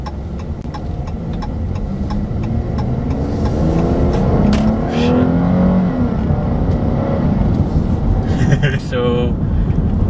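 A 2015 Chrysler 300 Limited with a 3.6-litre V6 engine hums and throbs as it accelerates, a steady, close in-cabin drone under someone speaking throughout.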